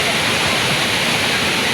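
Anyinasu Waterfalls in Sekyedomse Municipal, Ashanti region, roars as a steady, loud, close wash of rushing water with no pauses.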